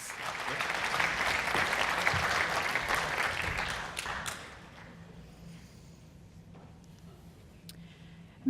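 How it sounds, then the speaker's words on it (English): A conference audience at a DevOpsDays Detroit tech talk gives a round of applause, with dense, steady clapping for about four seconds before it fades into a quieter room. "round of applause"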